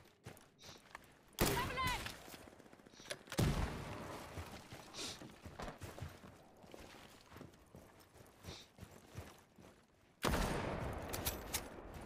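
Video game gunfire comes as sharp, loud bursts of shots at a few separate moments, with quieter scattered thuds and footstep-like taps between them.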